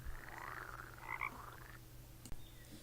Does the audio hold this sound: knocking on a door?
no